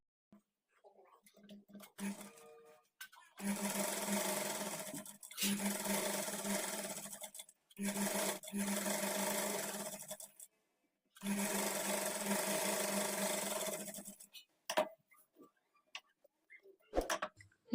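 A sewing machine stitches lehenga lining in several bursts of steady whirring, separated by short pauses, with soft handling noises and quiet speech in the gaps.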